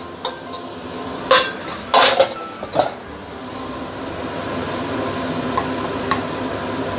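Prawns going into a pan of wet chow mein (wet fried noodles): a few sharp metallic clinks and clatters of utensil against the pan, then a low steady cooking rumble with no talking.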